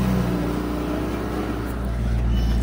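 A car engine with a faulty brake booster hums loudly and steadily in first gear as the car pulls away, a deep continuous drone with no voices.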